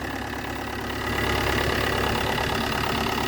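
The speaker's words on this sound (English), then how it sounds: "Engine sounds sweet as a nut." Steady, even idle of a 2005 car engine heard up close under the bonnet, swelling slightly in loudness after the first second, with no voices.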